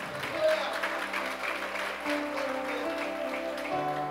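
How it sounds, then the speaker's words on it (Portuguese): Congregation applauding at a Portuguese-language church service, a steady, moderate wash of clapping from a crowd, with a sustained low musical tone running underneath throughout. "Pode aplaudir o Senhor"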